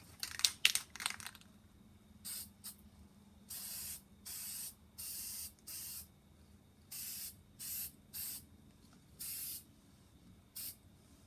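Short hissing bursts of spray paint on belt sander parts from a vintage Mead sander, after some close clatter at the start, then about a dozen evenly spaced one-second sprays with quiet gaps.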